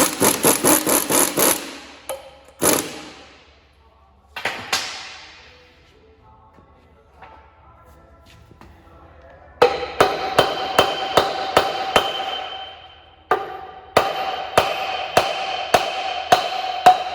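Hammer blows on a bolt driving a sheared stub shaft out of a Lexion combine, loud metallic strikes in bursts: a quick cluster, a few scattered hits, then steady rapid series of ringing impacts, with no talk.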